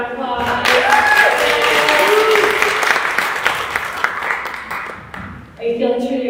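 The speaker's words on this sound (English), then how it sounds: "Can we give another round of applause?" An audience at a Sunday spiritual center gathering gives a round of applause for a featured musician, steady full clapping that tapers off before a voice resumes speaking at the end.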